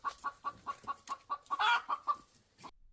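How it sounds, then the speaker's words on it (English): A hen clucks in a quick run of about a dozen sharp, evenly spaced calls, close and clear with nothing else around them. "The hen lays eggs every day."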